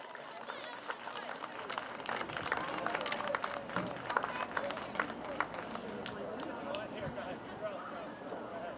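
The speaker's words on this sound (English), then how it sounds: "how about one more round of applause for our seniors and their supportive families." Fans at a girls high school soccer senior night applaud and clap in a scattered, fairly faint wash of crowd noise, with people talking under it.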